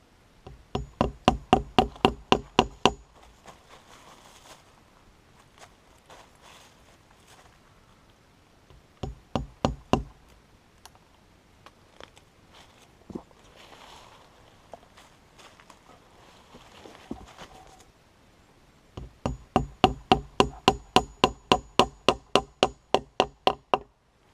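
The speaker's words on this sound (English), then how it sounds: "you're going to take a hammer" Close, loud hammering of roofing tacks in three bursts of rapid, evenly spaced blows, with quieter scattered taps between them.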